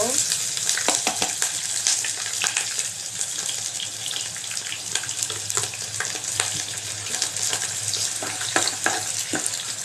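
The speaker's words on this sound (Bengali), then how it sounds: "পেঁয়াজটাকে ভালোভাবে নেড়ে বাদামি করবো" Onions with a bay leaf frying for chicken biryani, a loud, dense sizzle with continuous stirring and scraping in the pan, close and without talk.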